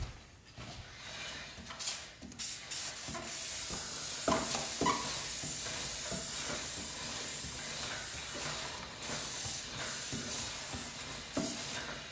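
Chain lube sprays onto the chain of a raised Yamaha FZ-09 motorcycle in short and long hissing bursts, the longest spray running several seconds, fairly close with small handling clanks between.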